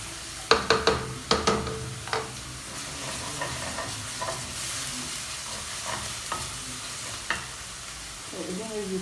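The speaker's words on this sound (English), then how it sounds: "this to make sure that all my spices are well cooked in the oil" Spices fry in hot oil for a chicken gizzard dish, a steady sizzle broken by sharp scraping knocks of a spoon stirring against the pan, several quick strokes early then sparser ones.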